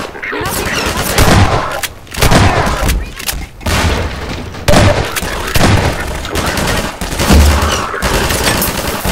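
Rapid gunfire and booming explosions crash repeatedly in the Half-Life 2 video game, loud and dense throughout, with a player's voice talking over the fighting.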